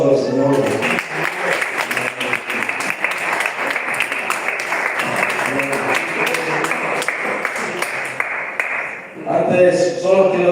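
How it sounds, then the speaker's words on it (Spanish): Congregation applauding the Lord during a family worship service in a Spanish-speaking church, a dense, steady clatter of many hands lasting about nine seconds, with voices mixed in before it fades and speech returns. "Dale un aplauso al Señor"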